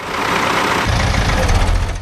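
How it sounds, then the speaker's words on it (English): The Dow 150, a rare tractor built from two Ford Force 5000 tractors, at a classic working event, its heavy engine roaring loud and close, with a deeper low rumble swelling in partway through. "Another rare and unusual tractor,"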